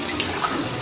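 Water pours in a steady, close stream into a pot of spicy noodles being cooked in Malaysia. It sounds like a continuous wash with no speech.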